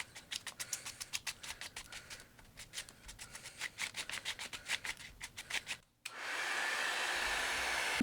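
A run of quick rubbing strokes on stone paper gives way to the steady, close whooshing roar of a heat gun blowing hot air onto the sheet.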